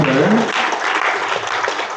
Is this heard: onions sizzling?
no